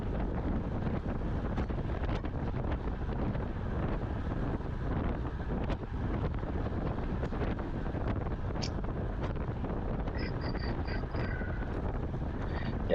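Steady, loud wind buffeting a racing cyclist's microphone while riding into a straight headwind toward a turnaround in a men's 45+/50+ criterium, a constant roaring rumble with no speech.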